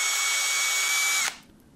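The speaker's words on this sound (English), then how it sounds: "Use a 9/64-inch drill bit to drill the pilot holes." A power drill with a 9/64-inch bit bores pilot holes for a transducer mount on a jon boat, a loud, close, steady high whine that stops abruptly, leaving faint background noise.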